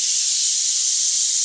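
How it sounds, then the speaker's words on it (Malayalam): A pressure cooker holding meat curry lets out a loud, continuous close-up hiss of escaping steam, unbroken for the whole stretch. "നമ്മുടെ കുക്കർ അടിച്ചോണ്ടിരിക്കുകയാണ്."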